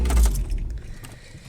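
A 1986 Peugeot 305 GTX engine rumbles briefly and cuts out while keys jangle close by.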